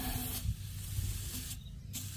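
Foaming aerosol oven cleaner sprays into the ports of an M57 diesel engine being fitted to a GU Patrol, giving two steady hissing bursts with a short pause between, close and fairly quiet.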